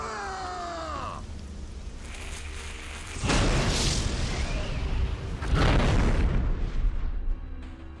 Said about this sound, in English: See, the enemy's got artillery up there.